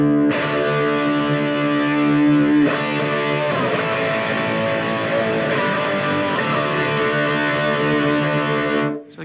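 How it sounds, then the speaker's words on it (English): A Red Special electric guitar, heavily distorted by the amplifier, rings out loud and sustained, with chords changing a couple of times before cutting off abruptly. "it's the distortion in the amplifier which makes that happen"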